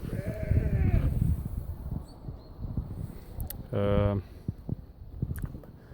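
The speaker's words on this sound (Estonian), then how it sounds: "kus siin on kitsed ja jaanalinnud" Goats at a private zoo on the grounds of a deposed president's mansion let out a single short, loud nasal bleat, close by, after a stretch of people talking and general outdoor noise.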